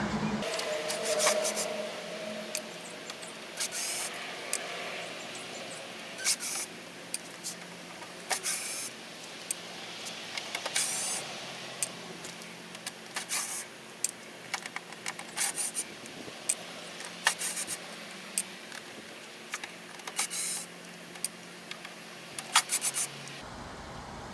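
Phillips head screws being worked loose from the casing of a portable air conditioner, giving soft scraping, rubbing and small clicking sounds scattered through the clip, close and fairly quiet, with no talking.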